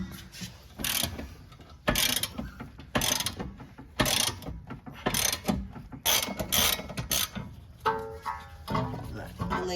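A ratchet with an extension winding out a very tight bolt between the strut on a car's brake assembly, close rapid clicking bursts repeating in short strokes with pauses between.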